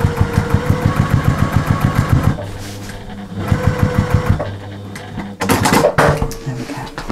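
Sewing machine stitching binding on a small quilted table mat, running in rapid bursts of even needle strokes with short pauses between runs, loud and close.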